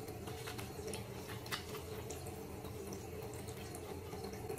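Running water from a tap wetting a bar of black soap, a steady faint hiss and splash throughout with no talk.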